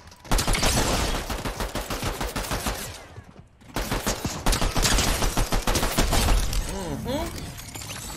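Pistol shots in the video game Fortnite, a rapid, loud run of close cracks with a brief lull midway, mixed with glassy shattering and other game effects, with voices talking over parts of it.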